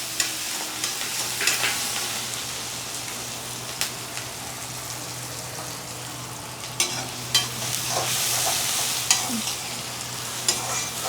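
Onion, curry leaves and green chili are sautéed in hot oil: a constant crackling sizzle with a low steady hum beneath, punctuated by repeated scraping stirs and clinks of a spoon against the pan.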